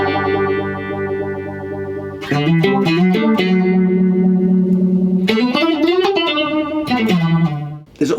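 An electric guitar plays through a Quad Cortex modulation effect, with sustained chords and short picked runs swirling with chorus-like wobble as an expression pedal changes the modulation rate, loud and close.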